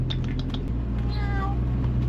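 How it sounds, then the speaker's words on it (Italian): A kitten gives a short high meow at close range, with indoor background hum and faint sounds before it. "È il gattino di papà, lui."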